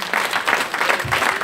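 A short burst of audience clapping at a night prayer meeting, quick rhythmic hand claps from a group, close and lively, with no speech over it.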